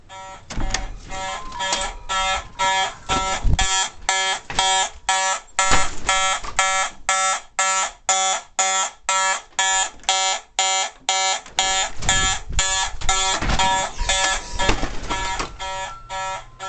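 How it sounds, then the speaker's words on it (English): A Simplex 4010 fire alarm system's mechanical horn sounds in march time, a loud, steady train of rapid evenly spaced harsh buzzing blasts running throughout with no voices. "You can hear the horn going off."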